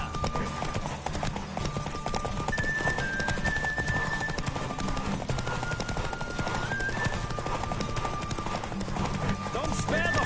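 Horse hooves gallop at speed in a PS5 video game, a steady, loud clip-clop rhythm running throughout under game music and talking voices.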